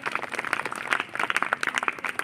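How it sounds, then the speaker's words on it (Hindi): Audience applause at a school quiz event greets participants, dense steady clapping throughout at moderate loudness. "एक बार जोरदार तालियों से स्वागत कीजिए।"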